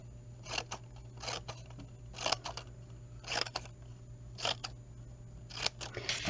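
Scissors snipping straight cuts into a sheet of paper to make fringe, a series of short crisp cuts in irregular bursts against a quiet background hum.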